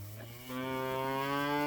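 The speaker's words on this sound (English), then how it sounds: "This is a baby cow." A baby cow gives a single drawn-out moo, close and clear, rising in strength and holding steady for over a second with no talking.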